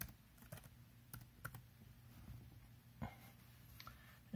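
Faint keystrokes on a Chromebook keyboard, a handful of scattered light clicks spread unevenly over a quiet, low background hum.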